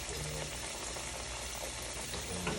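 Battered green tomato slices fry in hot oil in a home kitchen, a dense, steady sizzle and crackle that fills the whole stretch, close and loud with no pauses.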